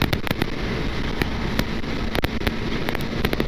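Rapid bursts of firecrackers popping in irregular clusters over a steady rumble of road or Yamaha MT-03 motorcycle engine noise in a tunnel, loud and fairly close.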